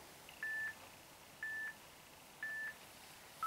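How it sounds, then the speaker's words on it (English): A workout interval timer sounds three evenly spaced electronic beeps about a second apart, with a fourth starting at the end, faint and clean over quiet background hiss. "when you hear those 3 beeps together, that can be your warning that we are switching."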